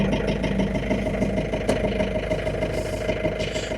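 A John Deere engine idles steadily with a continuous low, even mechanical drone, close and alone.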